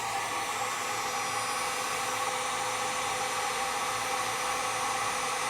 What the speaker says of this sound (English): Now we'll use our heat gun to shrink down our butt connectors.